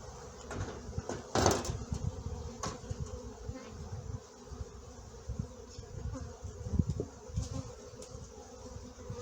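Honeybees swarm and drone around an open beehive during honey production work, a dense continuous buzz close by with occasional louder passes and faint handling knocks.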